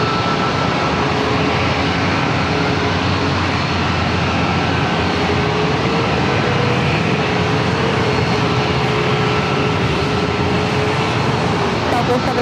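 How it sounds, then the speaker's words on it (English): An Atlas Air cargo plane flies in to land at San Diego airport, its engines a steady, broad roar that holds loud and unbroken throughout with no clear rise or fall. "So that was the Atlas Air coming in from the"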